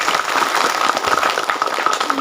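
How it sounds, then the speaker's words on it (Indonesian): A congregation at a manaqib dhikr gathering for Shaykh Abdul Qadir applauds, many hands clapping in a busy, steady patter that is loud and close, with some voices mixed in. "Tepuk tangan untuk jamaah"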